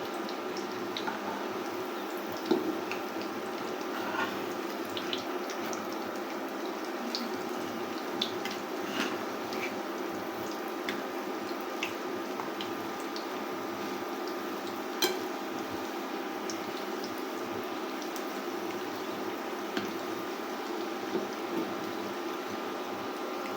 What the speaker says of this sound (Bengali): এই যে আমার রোল ভাজা হয়ে গেছে।